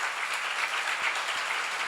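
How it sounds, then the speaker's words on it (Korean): Church congregation at a seminar applauds, a steady, fairly soft roll of many hands clapping together, even and continuous without a clear rise or fall. "박수 좀 세게 쳐요."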